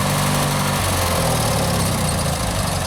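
A tractor engine runs outdoors at an off-grid workshop site, a loud, continuous, close rumbling drone with a steady throb and no break across the short stretch.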